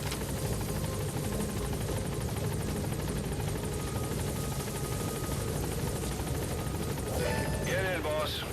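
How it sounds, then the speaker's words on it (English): A video game helicopter's rotor drones steadily and loudly throughout, with a dense rumbling hum; near the end a voice begins speaking over the engine noise. "Support helicopter has arrived."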